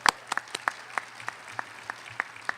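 A few scattered hand claps at a graduation ceremony, sparse and distinct, roughly evenly spaced over a couple of seconds, fairly faint against a quiet room with a low hum.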